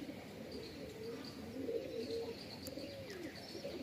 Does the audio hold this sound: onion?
no